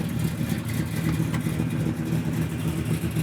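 A 1972 Chevelle SS engine hums steadily from inside the cabin while driving off through a neighborhood near a Boulder City car show, a close, continuous mid-pitched drone with no talk.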